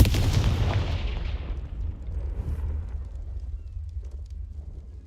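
A Confringo fire spell explodes in Hogwarts Legacy, a loud booming blast with a heavy low rumble that decays into a long fading roar over several seconds, with no talk.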